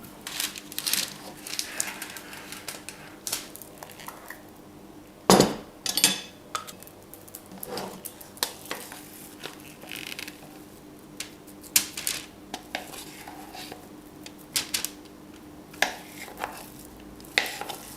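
Chickpea pizza dough being scraped and moved into a baking tray, with clinks and knocks of utensils against the bowl and pan, scattered irregularly over a low kitchen background.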